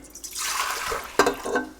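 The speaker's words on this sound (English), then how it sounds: "The water, milk, whatever you want to call this, is going all in" Water and milk pour into a mixing bowl for whole wheat sandwich bread dough, a steady close splashing stream that ends in a few brighter splashes and drips.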